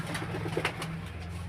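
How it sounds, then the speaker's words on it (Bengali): Pigeons for sale at Beldanga, including a female carrying an egg, coo in soft, low repeated pulses close by, a short rhythmic burst of throaty calls with no talking. "মাদি পায়রাটা পেটে ডিম আছে"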